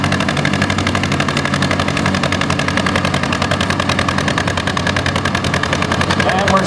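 A 1957 John Deere 320 tractor pulls a sled at Apache Junction, Arizona, its engine hammering out a steady, loud, rapid popping exhaust beat throughout without letup.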